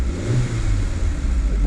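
A Fiat Panda 100hp engine revs steadily in a mid-pitched drone, close and fairly loud, with the revs rising slightly toward the end.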